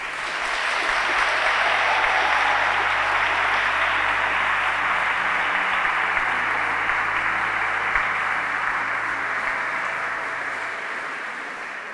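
Sustained applause from a graduation audience at an apprenticeship celebration, a dense, steady wash of clapping that stays loud throughout and tapers slightly near the end.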